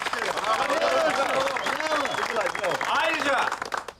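An audience applauding at a blood-donation event, dense continuous clapping from a crowd, loud and close, with voices talking over it.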